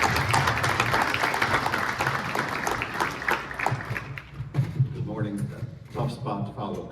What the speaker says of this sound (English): Big round of applause for John Anthony.